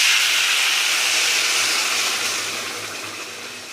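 Water hitting hot frying spices in a pan for a shrimp and kohlrabi-stem curry bursts into a loud, close, hissing sizzle that gradually fades, with no voices.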